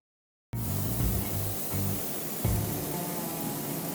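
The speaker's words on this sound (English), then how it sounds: "spraying the car dark grey" Dark grey primer spraying onto a Ford Escort, a steady broadband hiss starting abruptly after a short silence and continuing close and loud with slight pulsing.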